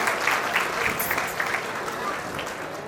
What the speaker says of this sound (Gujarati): ભાઈ તાળીઓના ગગડાટથી વધાવીએ.